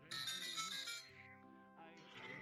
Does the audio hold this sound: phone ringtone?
yes